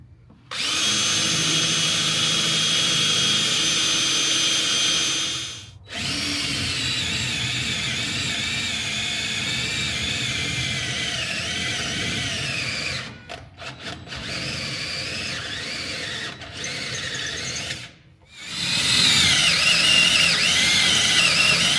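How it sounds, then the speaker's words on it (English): A power drill with a small bit bores a pilot hole in a retro winch bumper for a 1967 GMC, a sustained high whining drone in long runs broken by brief pauses and restarts. "let's find that small drill bit and drill the first pilot hole."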